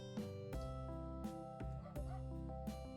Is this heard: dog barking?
yes